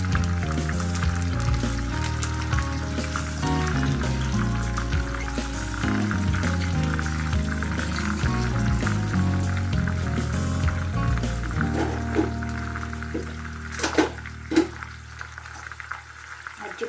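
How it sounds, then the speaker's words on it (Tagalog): Water is poured into a pan of frying liver, giving a continuous close pouring and bubbling sizzle with a steady rush, followed near the end by a few splashes and clinks. "lagyan ko lang siya ng water"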